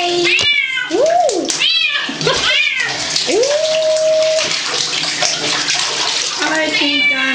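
A kitten meows loudly and repeatedly while being bathed, its rising and falling cries close over steady running water from a tap filling the tub.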